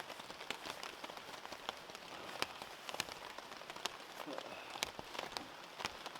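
Rain patters steadily on a wild camping tent, a dense continuous hiss broken by sharper close drops striking the fabric at irregular intervals.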